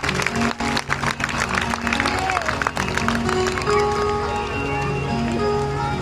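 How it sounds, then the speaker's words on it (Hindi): Crowd clapping to welcome performers at a Hanuman temple gathering. Sharp claps come thick at first, then thin out while a sustained tonal instrument or voice carries on underneath. "मैं चाहूंगा एक बार आप सभी लोग तालियों से हमारे सभी कलाकारों का स्वागत कर दें।"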